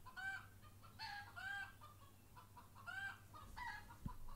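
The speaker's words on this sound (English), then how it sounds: "The chickens are on parade outside here." Several chickens clucking outdoors, repeated short bursts of clucks and squawks from a small flock at moderate distance over a low steady background hum, no voices.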